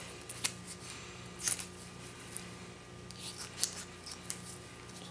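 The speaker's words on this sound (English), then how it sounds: "I just cut it like this, and I cut it all the way around." Soft, intermittent snips and slicing scrapes as a knife cuts around a beaver's front foot during skinning, several short close strokes spread over a few seconds against a quiet, low hum, with no talk.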